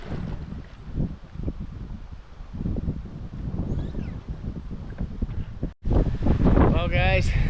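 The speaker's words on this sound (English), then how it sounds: "The wind is picking up." Wind gusting over an open lake on a solo canoe trip, a steady broadband rush rising and falling in waves that buffets the microphone, briefly cutting out before returning louder.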